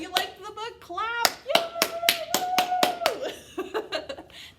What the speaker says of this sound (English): If you liked the book, clap.